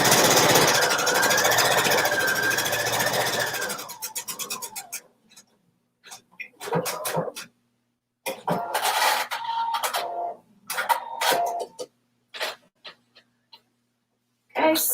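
A sewing machine runs steadily at first while it stitches a cotton fabric pocket seam with all-purpose thread and a size 11 needle. It then breaks into short bursts, rattles and clicks with pauses between them.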